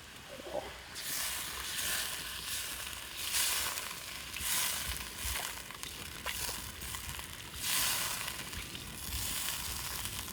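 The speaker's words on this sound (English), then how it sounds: "here it's sizzling away inside of that pot" Goat meat sizzles in a cast iron pot over an open fire, a steady, close frying hiss with soft crackles and brief stirring swells, with no voices.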